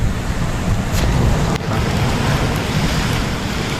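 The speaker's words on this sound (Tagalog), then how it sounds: "Ganitong oras medyo mahangin, malakas yung alon." Strong surf and gusty wind at a shoreline in the early afternoon, a continuous loud wash of waves with wind buffeting the microphone and no voices.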